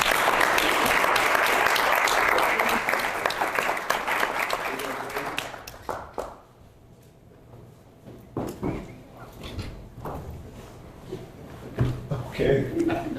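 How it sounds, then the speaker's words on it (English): Applause from attendees at a village board public hearing, loud and dense for about five seconds before fading out, followed by scattered shuffling, bumps and people talking in the meeting room. "Let's give them all a round of applause."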